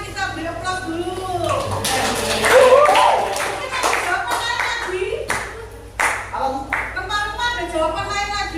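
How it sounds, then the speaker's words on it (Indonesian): Classroom applause as a group of students claps together in a fairly loud burst lasting a few seconds, with voices speaking and chattering before and after. "Kita beri aplaus dulu."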